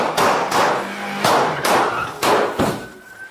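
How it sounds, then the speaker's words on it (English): Several sharp, loud gunshot-like bangs from an armed robbery arrest by Fresno police against AR-15 armed robbers, about six reports in an irregular volley across a few seconds, close by. "Shots fired!"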